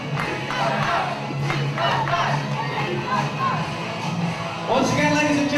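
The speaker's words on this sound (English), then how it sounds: "listen to the crowd chanting at Jake" A wrestling crowd at an IPW:UK match chants loudly at the victorious wrestler Jake, a sustained roar of many voices with rhythmic surges and a louder swell near the end.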